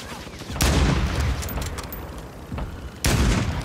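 Enemy gunfire in a video game, with a couple of loud bursts of shots and crackling rounds over steady background noise, and players talking through it.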